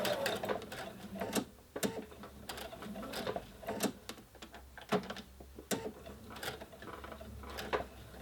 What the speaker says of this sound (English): needle up down, and then turning the corner and just stitching a little bit of a way along the other side